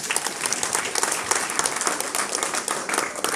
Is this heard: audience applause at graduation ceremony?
yes